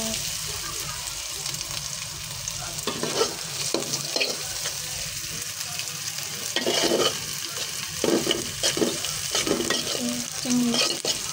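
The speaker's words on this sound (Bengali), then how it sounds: "এই যে কত তরকারিটা বসায় রেখেছি, পেঁয়াজ, মরিচ" Shrimp curry with onion, chili and garlic sizzles steadily in a pan. Close, continuous frying runs throughout, with intermittent stirring scrapes and some watery bubbling.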